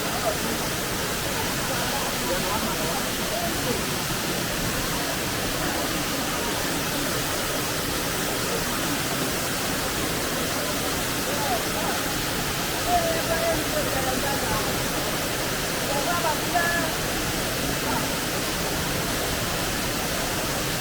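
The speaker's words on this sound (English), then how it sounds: "and you can hear the water just" A hidden waterfall in Ghana pours with a constant, dense roar of rushing water, steady and close throughout, with faint voices barely audible beneath it.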